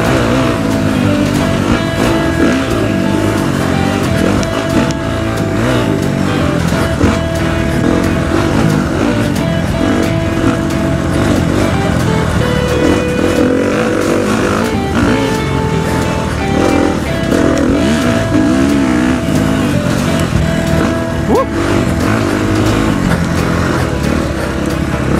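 Dirt bikes ride a well-marked hare scramble course, their engines droning steadily and loudly for the whole stretch, with revs rising and falling as the riders work through rough terrain.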